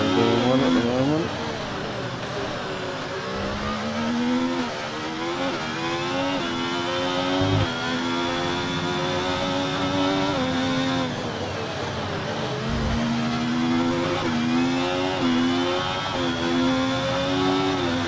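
Formula 1 race cars in the F1 24 game at the São Paulo Grand Prix, a continuous high-pitched engine whine rising and falling through gear shifts, loud and steady, with brief thuds at a few points.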